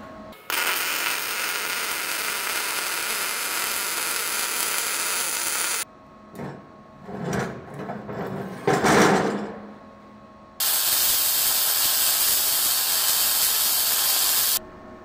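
Harbor Freight Titanium 170 welder laying a bead on quarter-inch steel with .030 wire, a loud steady crackling hiss for several seconds, then quiet clanks and shuffling, then another sustained burst of welding.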